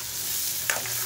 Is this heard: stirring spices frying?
yes